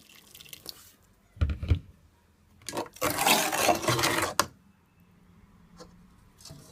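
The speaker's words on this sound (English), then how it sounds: "I'm just gonna add some hot water" Hot water is poured into a pan of sweet and sour chicken: a few short splashes, then a longer pour lasting about a second and a half, close and moderately loud with quiet gaps around it.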